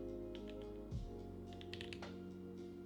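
Typing on a computer keyboard, a few scattered soft key clicks in short bursts, faint and close, over a steady hum with a low swooping sound in the background and no talking.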